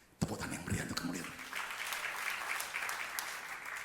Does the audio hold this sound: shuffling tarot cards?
no